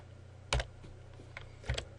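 Values being keyed into an Excel worksheet on a computer keyboard: sparse, close key clicks with two sharper bursts of taps over a faint steady room hum.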